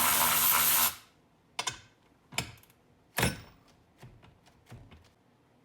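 An Aoben cordless ratchet loosening a nut gives a loud whirring burst of about a second, then falls to a few sharp isolated clicks and taps of the tool on the fastener, close by.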